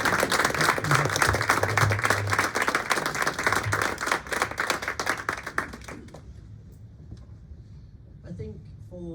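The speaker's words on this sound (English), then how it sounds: "can I just ask everyone to give a big round of applause?" Sustained applause from a crowd fills most of the clip, then fades out, leaving a voice speaking alone at the end.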